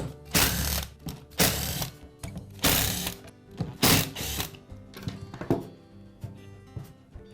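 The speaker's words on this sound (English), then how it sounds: "We'll begin by removing the side cover at the rear of the grinder. It's secured with 5 screws." Screws being backed out of the rear side cover of a DeWalt angle grinder, heard as several close, loud bursts of ratcheting and clicking with short pauses between them and no talk.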